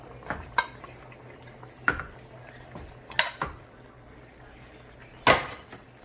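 A utensil scrapes and clanks against a pan as penne pasta is mixed with chicken sausage, giving about six separate sharp metallic knocks with quiet stirring between them.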